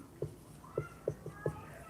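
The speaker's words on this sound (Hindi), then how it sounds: "फिर से आज की लाइव में बिल्ली आ चुकी है" A cat meows repeatedly during a live maths class, five short, fairly close meows spaced about a third of a second apart over a steady room hum.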